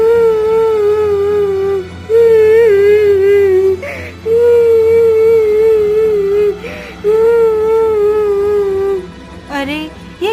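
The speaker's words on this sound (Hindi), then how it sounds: "ये किसके रोने की आवाज है?" A woman weeps in a Hindi cartoon, her drawn-out, wavering wails rising and falling in several long sobbing phrases with brief breaks between them, loud and close over a soft background drone.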